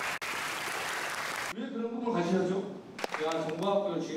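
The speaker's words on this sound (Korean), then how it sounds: "박수 한번 주십시오." Audience applause at an army non-commissioned officer school talk-concert session, a dense burst of clapping for about a second and a half that stops sharply, followed by someone speaking.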